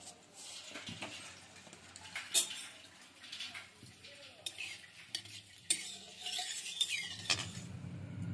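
Mustard oil sizzles and crackles steadily in a pan with a dried red chilli and whole cumin, with occasional metallic clinks and scrapes of a utensil stirring against the pan.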